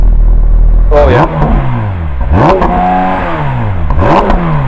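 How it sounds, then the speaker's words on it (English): Porsche GT3's naturally aspirated flat-six revving hard, three sharp blips that climb steeply and fall back, loud and close, with harmonic whine sweeping up and down each time. "Let's have a listen to a naturally aspirated flat six."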